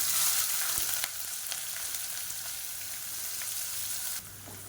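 Chopped onions and green chillies sizzle steadily in hot oil in a pan, a continuous close frying hiss with occasional light stirring clicks, fading slightly near the end.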